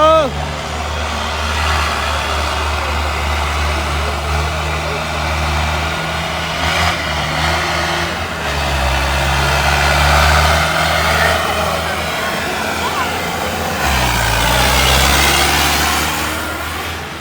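A tractor engine pulling a loaded trolley in a village fair pulling contest, a loud, steady diesel drone with shifts in pitch as it strains and revs, heard close alongside crowd noise.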